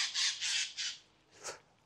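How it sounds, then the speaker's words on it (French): A crow caws loudly overhead in three or four harsh squawks in quick succession, then gives one shorter call after a brief pause. "Corneille qui fait beaucoup de bruit là au-dessus de moi"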